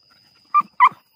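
A female hunting dog gives two short, high whimpering yelps in quick succession, close and clear against a quiet night background.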